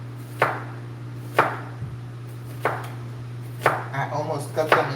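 A knife chops vegetables into julienne strips for plant-based meatless burgers, landing about five crisp, evenly spaced strokes on a board over a steady low hum, with a quicker flurry of cuts near the end.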